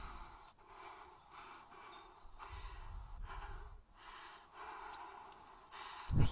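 Heavy, rhythmic breathing in The Walking Dead video game, a series of close, raspy inhales and exhales repeating every second or so, ending with a sudden low thump.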